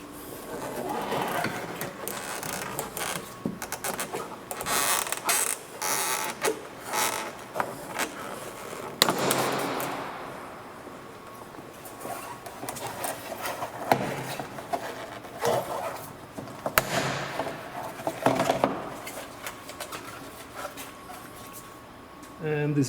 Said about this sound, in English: now we can pull off this plastic center trim piece